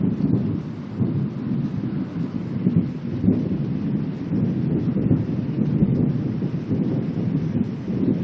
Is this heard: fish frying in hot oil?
no